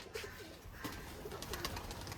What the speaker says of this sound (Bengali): এই যে হচ্ছে নর পায়রা।